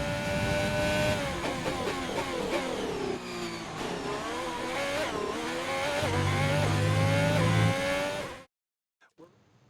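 F1 race car from the F1 2020 video game on a wet Belgian circuit, engine screaming loud and steady at high revs with gear-change steps, then cutting off abruptly near the end.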